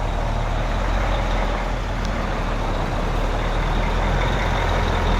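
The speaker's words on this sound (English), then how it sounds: "As you can see, trucks are just passing by here" Heavy trucks rumble past on a badly potholed road in Ermelo, their dense engine and tyre roar loud, close and unbroken throughout, with no talking.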